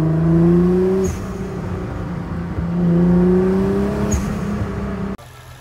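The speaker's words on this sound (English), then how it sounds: "This gives you the whistle sound or the flutter sound you're looking for in a blow up." Nissan GTR with full bolt-ons accelerating in two loud rising pulls, each ending in a sharp turbo blow-off whistle, close and without talk.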